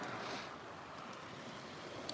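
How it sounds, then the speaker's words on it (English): Big waves wash against the Lake Michigan shore in a continuous, broad rushing roar, with wind noise buffeting the microphone and no talk. "The waves are very big."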